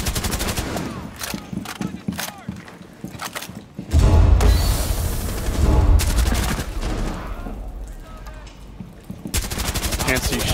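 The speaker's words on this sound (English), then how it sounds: "Dude, they're shooting me in the smoke" Sustained gunfire in Rainbow Six Siege during a Terrorist Hunt warmup, with loud, rapid automatic bursts and single shots near and far, rattling almost continuously over a rumbling combat backdrop.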